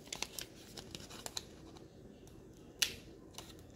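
Quiet scattered clicks and snips as scissors cut into a crinkly boba powder packet, close by with one louder crisp snip near the end.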